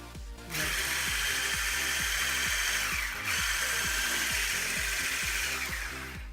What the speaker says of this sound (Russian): Теперь берем миксер и бьем.